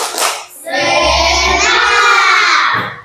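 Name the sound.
group doing a rhythmic spirit clap (tepuk semangat)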